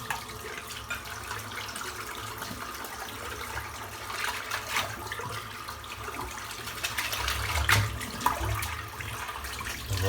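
Water runs steadily from a tap into a sink while soap is rinsed off a face, a continuous splashing rush with a few louder splashes near the end.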